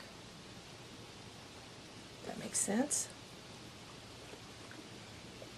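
Rain falling outside makes a faint, steady hiss throughout, heard from indoors. A short burst of speech briefly rises over it.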